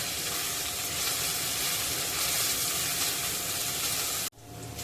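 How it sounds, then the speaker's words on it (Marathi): Crushed ginger and garlic fry in a pan, making a loud, continuous sizzle and hiss that cuts off abruptly near the end, leaving quieter background sound. "आलं लसूण चांगलं गुलाबी रंगावर परतून घ्यायचं आहे"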